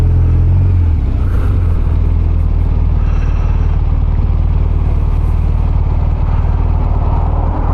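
Road traffic surrounds a BMW R1200RT motorcycle riding through congestion, with a steady low engine rumble, passing car noise and wind, loud and continuous throughout.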